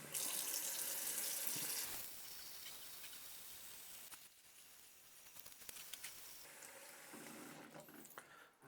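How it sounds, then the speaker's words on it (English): Water from a faucet gushes loudly into a bathroom sink closed by a universal pop-up stopper, a strong hiss at first, then a lower churning fill with occasional splashes, close by and without talk. "then we'll fill up the sink"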